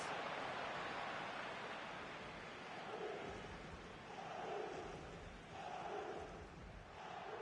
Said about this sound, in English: the crowd is certainly trying to motivate the players to get the equaliser